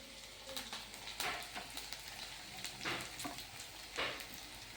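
Curry leaves and peanuts dropped into hot oil in a pan while making poha, giving a quiet, steady crackling sizzle with a few brighter spatters and pops, no voices over it.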